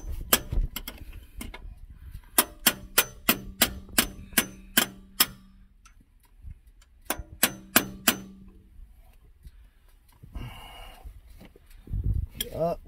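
A hammer and breaker bar clang against a vehicle's starter in a rapid metallic series of about a dozen sharp strikes, then a second burst after a pause, then faint rustling.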